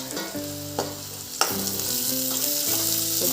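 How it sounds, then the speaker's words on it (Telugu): Onions fry in a pan for a Telangana-style oats upma, a loud continuous sizzle with a couple of sharp stirring clicks and a faint tonal hum beneath. "అలాగే ఉల్లిగడ్డలు, ఇవన్నీ ఫ్రై కావాలి."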